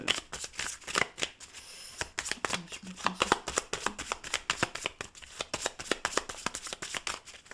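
Tarot cards being shuffled and cut by hand, a close, crisp run of rapid riffling flicks and slaps in quick irregular bursts, with faint talk in between.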